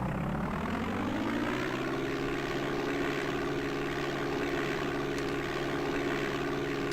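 A propeller aircraft engine in Flight Simulator 5.1 runs up to full throttle. The steady droning hum climbs in pitch over the first couple of seconds, then holds at a loud, constant roar.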